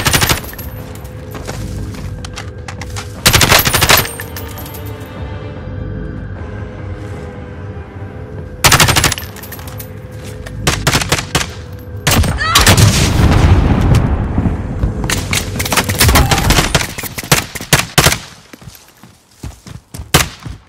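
Video game gunfire with loud bursts and scattered single shots, some close and sharp, others as rapid volleys, with players talking in between.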